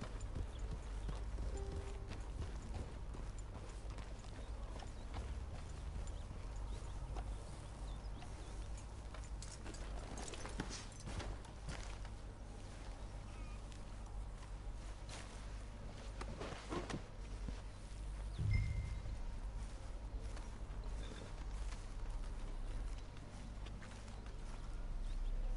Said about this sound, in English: Ata a tu caballo.